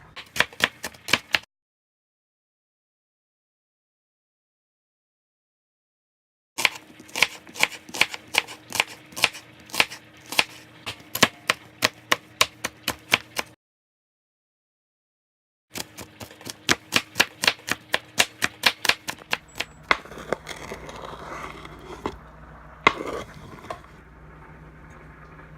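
A knife chops onions on a cutting board for black bean salsa in quick, evenly spaced taps, arriving in three bursts separated by pauses; the last burst is followed by softer scraping and handling.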